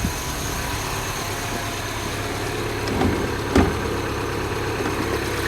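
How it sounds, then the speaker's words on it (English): Steady idle of a car engine heard with the bonnet open, a car with a suspected snapped cam chain, running smoothly and evenly up close with a couple of small knocks or clicks midway and no talking. "that engine sounds pretty sweet to me"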